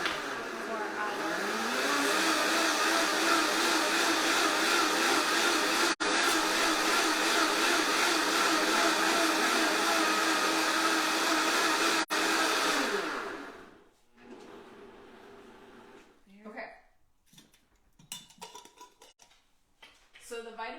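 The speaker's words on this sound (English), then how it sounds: "the Vitamix is great because it gets really, really aggressive and gets all those little bits pureed so that it's really, really beautiful" A Vitamix blender purees soup with a loud, steady whirring roar for about thirteen seconds, then cuts off, leaving quieter kitchen clatter and handling noises.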